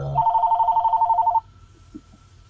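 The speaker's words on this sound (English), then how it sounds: "ignore the phone call" A telephone bell rings loudly and close in a rapid trilling burst of a little over a second, then stops, leaving faint background noise.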